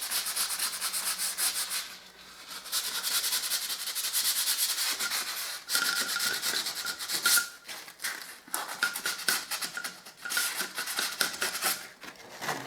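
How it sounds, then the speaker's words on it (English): A plaster wall is sanded by hand behind a removed light switch: close, continuous rasping strokes with short pauses, and no voices. "Undo the light switch and sand the wall behind."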